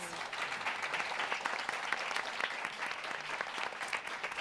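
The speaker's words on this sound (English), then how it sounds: "Let's give our fantastic panel a round of applause." Steady, full applause from the audience after a panel discussion at a London Climate Action Week event, dense clapping sustained evenly throughout with faint crowd noise.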